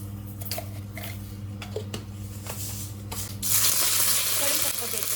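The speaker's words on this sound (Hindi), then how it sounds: "इसमें मैं डालूंगी सबसे पहले राई," Mustard seeds hit hot oil in a pan for an Indian breakfast potato dish. A loud, bright sizzling hiss bursts up partway through, over a steady kitchen hum with a few light clinks beforehand.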